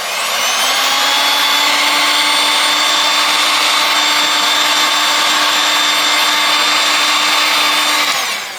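Steady, loud blowing roar of a heat gun aimed at a smartphone flex cable and vibration motor during a screen-replacement teardown, running continuously for over eight seconds with a constant airflow hiss.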